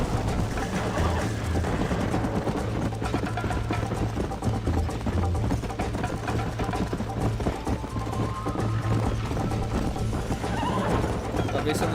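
A horse in the video game Red Dead Redemption whinnies over a steady clip-clop of hooves, with game music and ambience layered beneath and talk mixed in.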